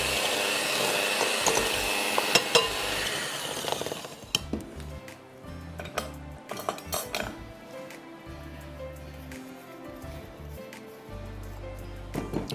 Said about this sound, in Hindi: अब जल्दी से मक्खन को बीट करते हैं। उसमें आप चीनी डालिए, अच्छी तरह बीट होने दीजिए।